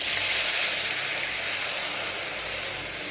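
Mustard paste hits a hot pan and sizzles, a steady bright frying hiss that holds fairly loud and close throughout, gradually easing slightly, with no talking.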